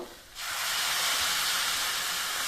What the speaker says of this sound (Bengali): এবার আমি কিছুটা গরম জল করে রেখেছি, এবার জল দিয়ে দেব।